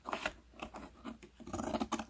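Scissors make a diagonal cut through patterned paper for a gift box, a rapid series of crisp, close snips and paper rustles heard alone.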